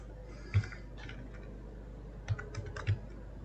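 Keystrokes tapping on a computer keyboard while text is typed for a thumbnail design, a few distinct clicks with short quiet gaps between them, close and clear with no talk.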